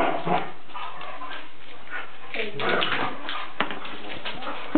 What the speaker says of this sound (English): I can hear the dogs playing in the background.